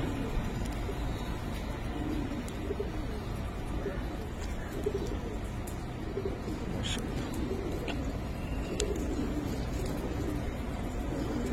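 Giribaz pigeons coo in soft, repeated low calls at a loft, fairly faint against steady background noise, with occasional light chirps and distant traffic.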